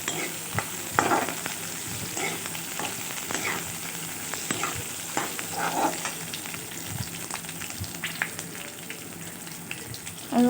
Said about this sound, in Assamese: পিঁয়াজখিনি আধা ভজা কৰি ল'ম।